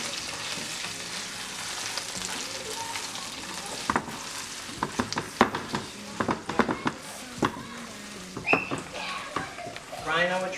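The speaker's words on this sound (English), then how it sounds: "Frying our choritos." Chorizo frying in a pan gives a continuous close sizzle with stirring, punctuated by sharp clicks and clatters of a utensil against the pan, while a person talks over it.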